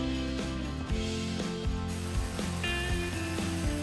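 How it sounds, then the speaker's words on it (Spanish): Parkside 4V cordless screwdriver with a cutting attachment slicing through a double layer of thick fabric, a steady mechanical ratcheting buzz with rhythmic clicking pulses, close and continuous without talk. "Y ahora vamos a cortar el doble de tela, a ver si puede."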